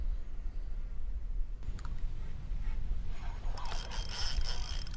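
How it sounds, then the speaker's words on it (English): A fishing reel's clutch slipping as a hooked fish pulls line, a fast ratcheting buzz that starts faintly and swells into a loud, close whirring rattle toward the end, over low outdoor rumble. "Can you hear the clutch pulling in like it did on that other fish?"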